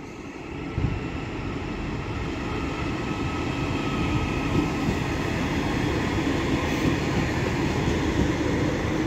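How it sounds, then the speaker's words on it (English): Northern train 331106 pulls out of Manchester Airport station, a steady loud rumble and hum of the electric unit drawing away that sounds near and continuous, with no voices over it. "So now departing is 331106 with the 1332 Northern service to Liverpool Lime Street."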